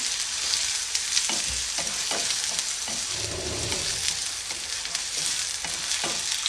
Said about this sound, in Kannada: ಈರುಳ್ಳಿನ ಸ್ವಲ್ಪ ಚೆನ್ನಾಗಿ ಫ್ರೈ ಮಾಡ್ಕೊಳ್ತೀನಿ